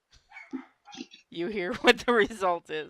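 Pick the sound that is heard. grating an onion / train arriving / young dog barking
young dog barking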